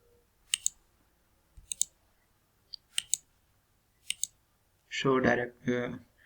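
Computer mouse clicking while drawing in AutoCAD: several sharp, close double-clicks spaced about a second apart, followed by a person speaking.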